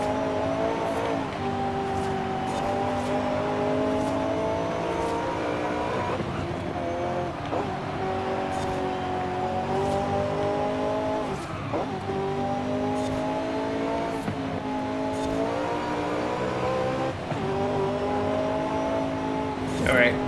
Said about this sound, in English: I just wanted you to hear that glorious engine sound for a bit.